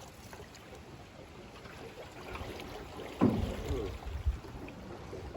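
Water rushing around a canoe running river rapids, a constant mid-level wash with a brief louder splash partway through, close by, and a short exclamation from someone aboard.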